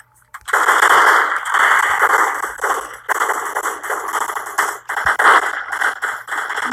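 Rapid, loud AK rifle fire in a video game, sustained bursts of dense automatic shots running almost continuously with brief breaks, no talk over it.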